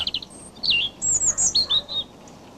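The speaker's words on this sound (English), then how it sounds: "You can hear the robin's song in most months of the year." A European robin sings a short run of thin, high, trilling notes, rising and falling in quick phrases, close and clear against a quiet background.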